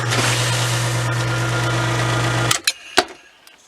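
A sump pump runs with a loud steady motor hum and buzz for about two and a half seconds, then cuts off, followed by a few sharp knocks and clunks near the microphone.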